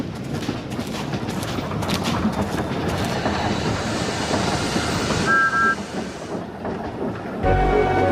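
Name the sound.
cartoon steam engine train running on rails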